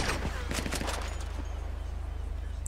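Sniper fire in GTA 5 Online, a few sharp cracking shots early on over a constant low engine-like drone, then fading game ambience.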